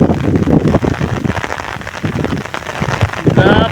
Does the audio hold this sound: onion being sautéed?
no